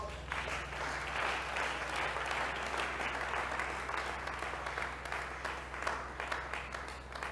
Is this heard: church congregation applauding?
yes